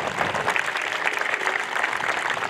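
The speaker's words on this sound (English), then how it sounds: "I'd like to just take a moment to do a round of applause for Colonel McFarland, Mr. and Mrs. Cato" Sustained applause from an audience at a 2019 WWII Tennessee Maneuvers monument ceremony at Cumberland University, a dense, steady clapping that fills the moment without speech.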